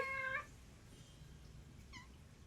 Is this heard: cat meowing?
yes